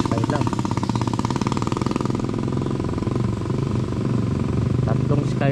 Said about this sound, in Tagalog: Skylab habal-habal.